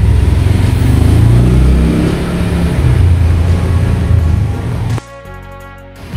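A Honda Click 125 scooter with a misfiring engine runs loudly and steadily up close, its drone shifting abruptly about five seconds in to a thinner, tonal hum.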